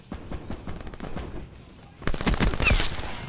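Gunfire in Call of Duty Black Ops 4, rapid automatic bursts of shots in quick succession, softer at first and then louder and denser near the end, with a faint voice briefly underneath.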